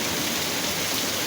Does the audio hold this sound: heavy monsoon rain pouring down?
yes